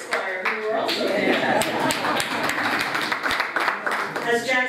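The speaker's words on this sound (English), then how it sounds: "one more round of applause for that choir" At an outdoor statue unveiling, scattered clapping for a choir rises amid a crowd, with people talking over and around the applause throughout.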